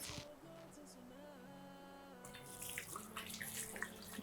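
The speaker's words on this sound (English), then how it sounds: "let's wash your hands" Running tap water splashing over hands at a kitchen sink, starting after a quiet lead-in with faint background voices and tones, then a close, steady gushing stream with small clinks.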